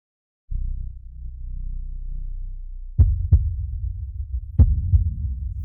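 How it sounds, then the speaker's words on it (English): A heartbeat sound effect plays as a low, steady throbbing pulse, then turns into a few sharp, loud thumps over a humming undertone, with no voices. "The heartbeat is indeed faster."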